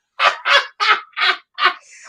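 A human voice imitating a chicken, giving five loud, close clucking squawks in a quick, even rhythm, the last stretched into a higher drawn-out tone.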